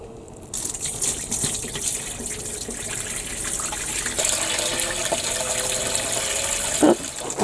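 Water pours steadily into the watering hole of a newly assembled self-watering planter, a continuous close gush that runs alone for several seconds with a small splash near the end.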